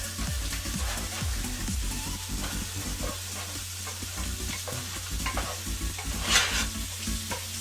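Diced vegetables, peppers among them, being stirred in a frying pan: a constant sizzle broken by rhythmic scraping and tapping of a utensil against the pan, close up and without speech.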